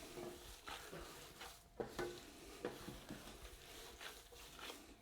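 Longaniza sausage meat is worked by hand with spices and salt, giving faint, sticky, squelching slaps and stirs in an irregular rhythm, close up and quiet, without voices.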